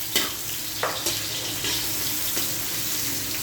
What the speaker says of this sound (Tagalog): Then i-add na natin guys ang ating garlic.